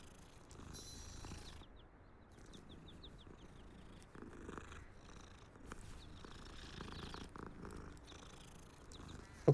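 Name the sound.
cat purring in the video game Hogwarts Legacy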